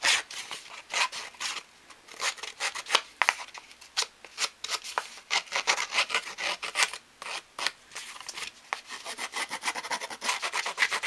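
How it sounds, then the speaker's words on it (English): Rough, scraping rasps as a distressing tool drags along the edges of a paper tag, coming in quick irregular strokes at close range with no voices. "The next thing I did was to take my Tim Holtz distressing tool and distress the edges all the way around."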